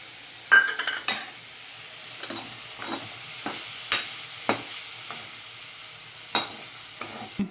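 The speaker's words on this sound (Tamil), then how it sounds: "இப்போ சில்லி பவுடர் போட்டு ஃப்ரை பண்ணிக்கலாம்" Vegetables sizzle in a pan with chili powder and turmeric, a soft steady frying hiss broken by several sharp scrapes and clinks of a spoon stirring against the pan.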